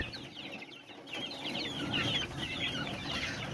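Several chickens cluck and chatter in a yard of young birds, a continuous busy murmur of soft clucks that grows a little louder partway through, with no talk.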